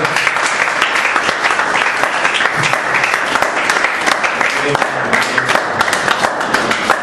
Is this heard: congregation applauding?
yes